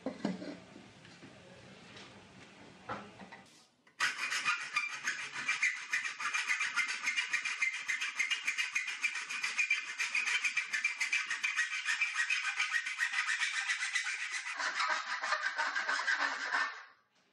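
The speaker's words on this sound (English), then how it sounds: "I'm going to do that and cut both of them at the same time." Two pieces of steel trunking cut together at 45 degrees, a few seconds of quieter scraping, then a loud, fast, rasping saw stroke that runs steadily near the mic for over ten seconds before stopping.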